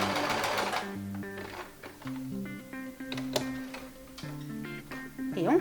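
A domestic sewing machine runs a backstitch on fabric to lock the seam, its motor whirring steadily with rapid needle ticks and brief pauses and restarts, close and clear with no talking.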